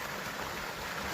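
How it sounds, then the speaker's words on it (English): The silty water of Whitewater Creek rushes along in a steady, close broadband wash that runs without a break for about a second. "This is Whitewater Creek here. Very, very silty."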